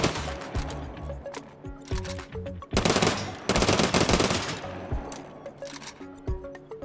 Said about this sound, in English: Shoot some bullets.